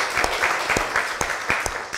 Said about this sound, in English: let's give Richard a round of applause